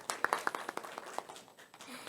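An audience at a forum on social value in Gyeonggi Province claps briefly. The sharp claps are scattered and fairly close, and the applause thins out after about two seconds.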